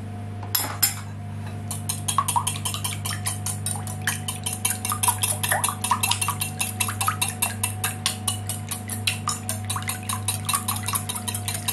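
Eggs being beaten in a bowl with a utensil, a rapid, even run of light clinking strokes against the bowl that continues close and steady under a low background hum, with no talk.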